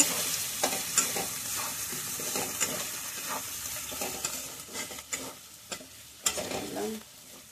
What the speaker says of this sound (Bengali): আলুগুলো ভালো করে সাথে মশলার সঙ্গে একটু কষে নেবো